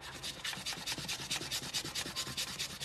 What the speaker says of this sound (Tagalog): Naririnig nyo. Parang nililiha.